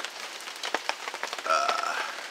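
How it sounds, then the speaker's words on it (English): Rain falls outside a backwoods bushcraft shelter under construction, with drops pattering and tapping irregularly on nearby surfaces and a brief tonal squeak partway through, and no talking. "it's raining out"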